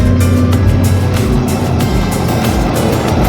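A tractor pulling a soybean seed drill drives off the field with its rollers raised, its engine a loud, steady, close drone that holds throughout with faint rhythmic pulsing.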